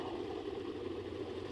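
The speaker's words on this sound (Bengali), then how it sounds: "এগুলো ট্রলার," Fishing trawler boats pass on a busy waterway at Rautara in the Chalan Beel wetland. Their engines make a steady, mid-distance drone.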